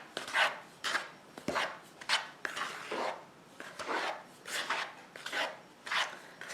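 A pastry scraper taps repeatedly on chocolate tart dough, giving a steady rhythm of short, dry, close taps with brief pauses between them and no talking.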